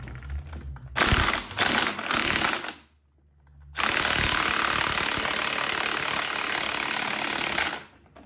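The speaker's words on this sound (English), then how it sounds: "Untab the bolt through the output shaft and slacken the bolt." Ratchet wrench slackening a bolt through the output shaft of a Benford 32D gearbox, with a loud, rapid metallic clicking in two bursts separated by a brief pause, then a long sustained run of clicks.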